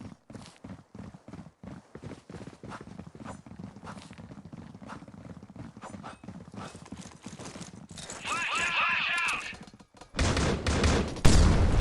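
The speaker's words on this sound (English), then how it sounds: "Multiple grenades going here as they push towards his A side" Grenades burst in a Critical Ops tournament semi-final match, coming as loud, rough blasts near the end, after a stretch of clattering game noise under steady commentary.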